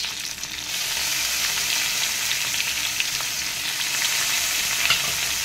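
Chopped tomatoes, onions and green chilies frying together in a hot pan, a loud, continuous close-up sizzle with no voices.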